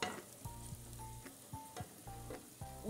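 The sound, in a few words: sausage sautéing in seasonings in a pan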